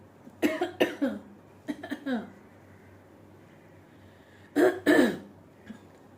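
A man clears his throat several times in short, raspy bursts, with a pause before a final pair of gruff clears; quiet room otherwise.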